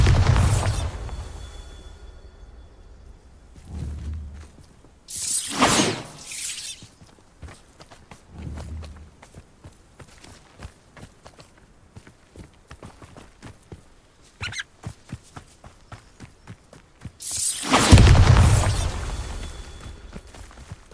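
Bombarda blasting spell explosions in the Hogwarts Legacy video game, a few loud broadband bursts spaced through the stretch, with quieter rustling and footstep-like clatter between them.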